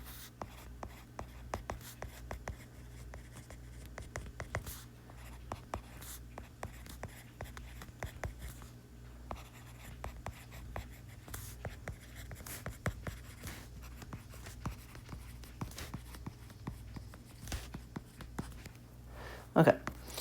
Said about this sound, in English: So I'll write a note.